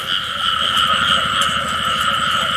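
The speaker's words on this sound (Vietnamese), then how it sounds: "Hôm nay ếch cặp dữ lắm à." Dense chorus of frogs croaking continuously in a rice paddy during rain, a thick steady layered din with no voices.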